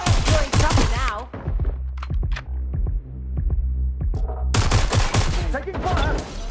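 Gunfire in the open-world action game Watch Dogs: Legion comes as loud rapid bursts of automatic fire, a dense volley at the start, scattered single shots in a quieter middle stretch, then heavy fire again, with shouting voices mixed in.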